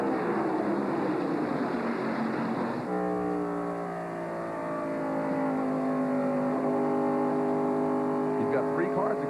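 NASCAR Winston Cup stock cars thunder down into turn one at Pocono International Raceway in 1997, a rough broadband engine roar giving way to sustained, stepped whining engine tones as the pack passes, with a commentator talking over it.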